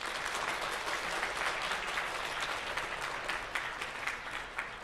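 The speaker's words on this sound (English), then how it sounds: "So students, can you please applaud your parents?" Students at a school concert applaud their parents, a dense, steady wash of many hands clapping that fills a hall throughout, fairly distant and even.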